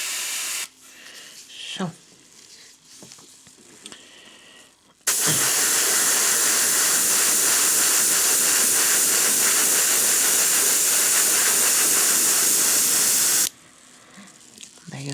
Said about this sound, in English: Loading up the airbrush again, and there we go.